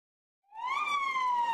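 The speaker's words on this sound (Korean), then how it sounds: "소방차가 사이렌을 울리며 이면 도로로 들어옵니다" A fire truck siren swells in from silence into a loud, single rising wail that then holds a steady, slowly falling tone as the truck turns into a back street.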